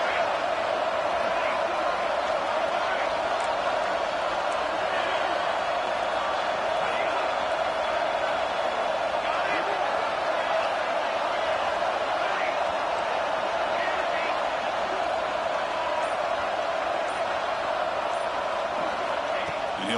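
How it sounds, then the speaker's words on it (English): Stadium crowd noise at a football game, a dense steady roar of cheering that holds loud and continuous throughout, building pressure as the defense faces a red zone stop. "And here comes the noise. This crowd is trying to inspire this defense to make a big red zone stop."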